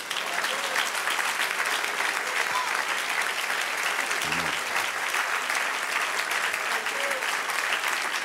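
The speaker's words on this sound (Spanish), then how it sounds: "Denle un aplauso al Señor." A church congregation applauds together at a sermon, steady dense clapping that holds at full strength for the whole stretch with no voice rising above it.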